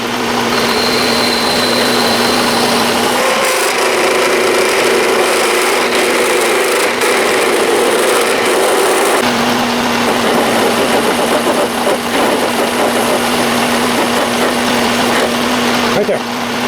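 An Atlas lathe runs with a constant loud motor hum and high whine while a drill is fed in slowly with the tailstock, with the tone shifting slightly partway through.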